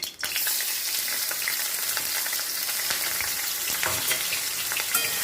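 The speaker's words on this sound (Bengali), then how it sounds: "কড়াইতে দিয়ে দিয়েছি সর্ষের তেল তেলটা গরম হয়ে গেছে দিয়ে দিচ্ছি শুকনো লঙ্কা ফোড়ন দিয়ে দিচ্ছি কাঁচা লঙ্কা আর রসুন বাটা" Dried red chilli, green chilli and garlic paste sizzle loudly in hot mustard oil in a wok, a dense steady frying hiss with occasional crackles and stirring scrapes throughout, no voices.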